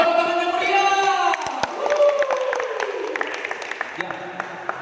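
A crowd at a community gathering cheers and whoops with some clapping, loud at first and then thinning into scattered claps and voices.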